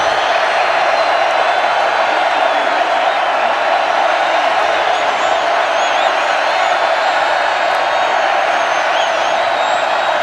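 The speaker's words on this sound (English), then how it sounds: "What crowd is left is being heard from." A thinned-out college football stadium crowd at a WVU versus Missouri game keeps up a loud, steady roar for a fourth-and-goal play, a continuous wash of cheering with occasional whoops and no letup.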